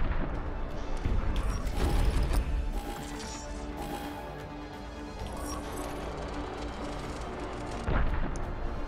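Weapons fire in the Ghost Signal: A Stellaris Game VR game on PSVR2. Guns and missiles go off in heavy, booming bursts with mechanical clatter over a constant dense rumble, loud and continuous, with a big blast near the end.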